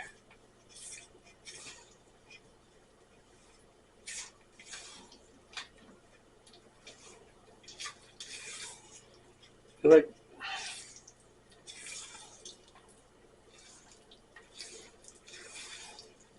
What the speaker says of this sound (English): We'll gently mix this together